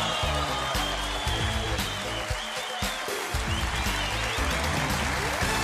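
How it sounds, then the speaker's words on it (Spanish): Studio audience applause on a Colombian television panel show swells steadily under loud background music, a continuous rushing patter of clapping lasting several seconds. "¡Aplausos, maestro!"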